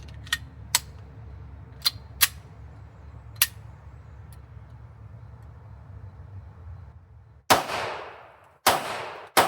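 An East German Makarov pistol fires a series of sharp, irregularly spaced shots at some distance, each followed by a short ring, then two much louder, closer blasts with lingering echoes.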